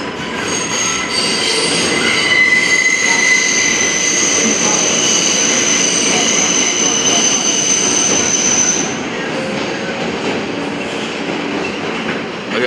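A New York subway train rolls past with a loud, sustained high-pitched wheel squeal over a heavy rail rumble, and the squeal cuts off near the end as the rolling noise carries on.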